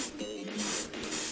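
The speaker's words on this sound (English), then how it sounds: "spray paint, rattle cans." A rattle can of spray paint hisses in two short bursts, close and fairly loud, as paint is sprayed onto a miniature's base, with a brief pause between the sprays.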